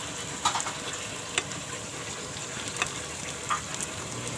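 Coriander fritters (kothimbir vadi) sizzle steadily in a hot pan over a gas flame as they are flipped, with a constant frying hiss and a few soft clicks of the turner against the pan.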